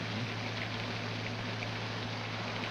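Heavy storm rain pours down in a steady, dense hiss with no breaks, fairly faint, under a low constant hum and with no talking.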